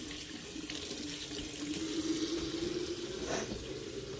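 Hands are washed under a running kitchen tap while cooking, the water pouring in a steady close splash with slight shifts as the hands move through the stream.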